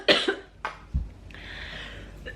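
A person coughs a few times at close range, two sharp coughs followed by a throatier one and a soft exhaling rasp, with no talking.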